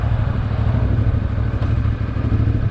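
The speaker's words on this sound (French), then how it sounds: "Je vais faire les derniers mètres avec cette moto" A CF Moto 450 MT motorcycle being ridden, its mid-pitched engine droning steadily and close with a rough, throbbing texture and no voices.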